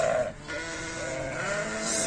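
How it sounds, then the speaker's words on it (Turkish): Lamb bleating in a sheep barn, a single short bleat at the start over steady barn noise, close and fairly clear. "Evet kuzumuzu da getirdik"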